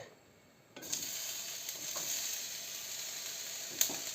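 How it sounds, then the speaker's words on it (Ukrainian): Peppers hit a hot pan and start to sizzle, a steady close frying hiss with occasional soft clicks from stirring. "а ми будемо тут смажити наш перчик"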